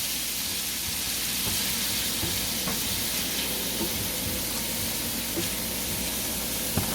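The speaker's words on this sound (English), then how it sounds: "We're going to get this sauteed up here a little bit." Food sautés in a pan with onions and a pantry mix that may include corn, giving a soft, steady, continuous sizzle with faint stirring clicks and no talk.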